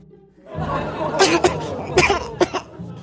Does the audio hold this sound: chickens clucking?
no